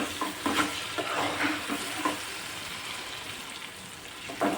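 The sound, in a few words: stirring tomatoes cooking into gravy for bottle gourd bharta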